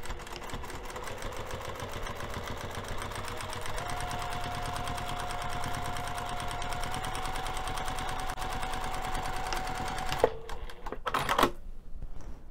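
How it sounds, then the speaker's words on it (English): A sewing machine runs a quarter-inch seam on a fabric storage bin, a rapid, even mechanical chatter that holds steady for about ten seconds, then slows and stops with a few final clicks and knocks. "we're going to be sewing this short side edge using a quarter of an inch seam allowance"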